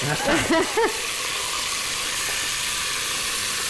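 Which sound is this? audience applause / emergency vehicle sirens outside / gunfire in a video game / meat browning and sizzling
meat browning and sizzling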